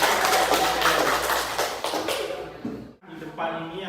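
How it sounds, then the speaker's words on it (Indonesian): Classroom of students at SMPN 9 Satap Dompu applauding together, a loud, dense wash of many clapping hands that tapers off, then resumes briefly more softly. "Oke, tepuk tangan semua."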